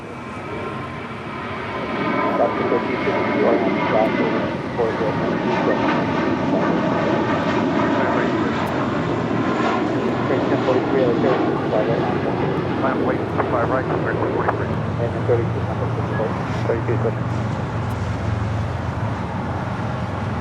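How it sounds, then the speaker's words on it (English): An American Airlines Airbus A321 departs LAX, its jet roar building after a couple of seconds into a strong, sustained rumble with a rising whine, while people talk throughout. "Next departure is American Airlines Flight 32 heading to JFK in an A321."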